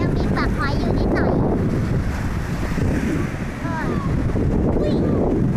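Strong sea waves wash steadily onto Cha-am beach while wind buffets the microphone, a loud continuous roar with voices heard faintly in the background.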